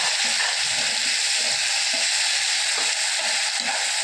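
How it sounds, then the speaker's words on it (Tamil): Raw mango pieces and curry leaves sautéing in hot oil in a pan, giving a loud, continuous sizzle and crackle with soft stirring scrapes underneath, no talking. "எண்ணெயிலேயே நல்லா வதங்கணும். நல்லா வதக்கி விடணும்."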